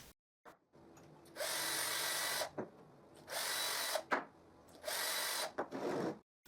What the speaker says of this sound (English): I just have to drill a guide hole in the wooden pieces.